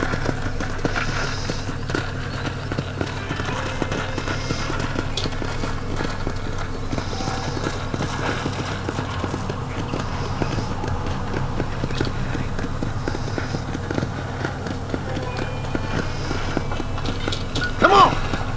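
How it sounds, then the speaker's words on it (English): Horse hooves clip-clopping at a steady walking rhythm while riding in the video game Red Dead Redemption, continuous and close, with a voice talking over them. "let's see if you can still ride a horse"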